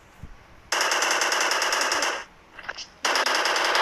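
Automatic gunfire in a video game, with a long rapid burst of shots, a brief pause with a faint tonal effect, then another rapid burst, loud and close with no talk over it.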